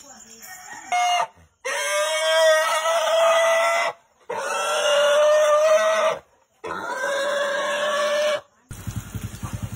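A pig squeals before being cleaned for a birthday feast, giving long shrill cries in three sustained bursts separated by short pauses, loud and close, with chickens and voices faintly around it.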